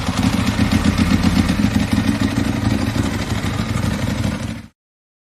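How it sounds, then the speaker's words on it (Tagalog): A Harley-Davidson motorcycle with a single carburetor idles roughly, a loud, close, uneven engine rumble that runs steadily and then cuts off abruptly. "Parang palyado yung Harley ah"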